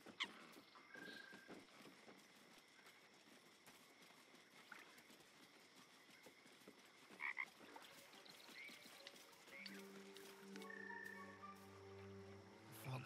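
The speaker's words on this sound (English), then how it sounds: "It ribbits erratically as if in pain." Frog in the Baldur's Gate III video game croaking erratically as if in pain, faint irregular croaks over quiet game ambience, with music tones rising toward the end.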